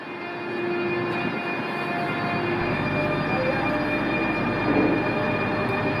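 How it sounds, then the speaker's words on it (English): A Eurostar train pulling out of St Pancras International for Paris, a steady electric whine and rumble that builds gradually under the station's echoing hall, with no talk. "A Eurostar train leaving for Paris."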